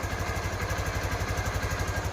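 A motorcycle engine that previously had a crank noise idles close up with an even, rapid thumping beat and steady mechanical vibration, alone without talk.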